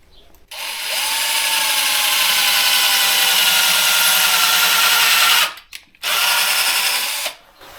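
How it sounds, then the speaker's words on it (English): A power drill drilling through wood for a cucumber trellis whines steadily and loudly for about five seconds, stops briefly, then gives two shorter bursts, close by with no talking. "Then my plan is to drill a hole through here first."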